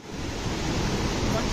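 A river and waterfall rush below a small bridge on the Kedarnath trek, a dense, steady roar of churning water filling the scene without a break.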